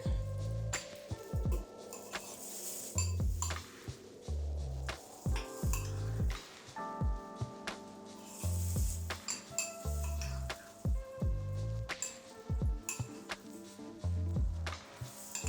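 Egg cracked and whisked in a bowl for a rice omelette, with clinks of utensil against the bowl, quick irregular stirring taps and scraping, close and fairly loud, no talking.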